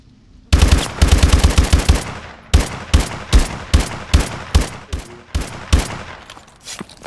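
Rapid bursts of automatic gunfire in a video game shooter, a dense opening volley followed by a steady string of loud, evenly spaced shots, with no talking over them.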